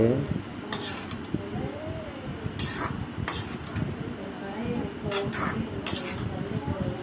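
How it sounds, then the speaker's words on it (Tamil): A spoon scrapes and clinks against a pan while vermicelli (semiya) is stirred in a home kitchen, producing intermittent metallic taps over a soft background, with a voice speaking faintly. "அப்படியே கிண்டிக்கிட்டே இருக்கணும்."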